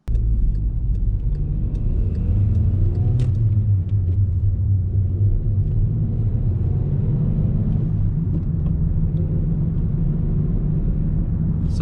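A 2013 Skoda Yeti is driven with its engine revved hard, giving a steady, loud low rumble of engine and road noise throughout, heard from inside the car with no talking.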